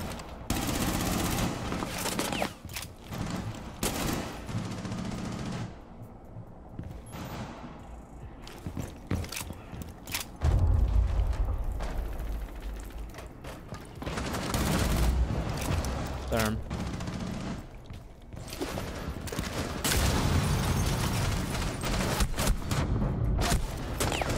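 Bursts of gunfire from the Rainbow Six Siege video game, loud shots and rapid automatic fire coming in irregular clusters over mechanical clatter, with players talking over the action.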